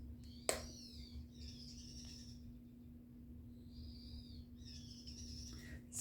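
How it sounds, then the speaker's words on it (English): A pet bird sings indoors, faint warbling high phrases and chirps coming and going over a steady low electrical hum, with one sharp click near the start. "my bird is still singing away"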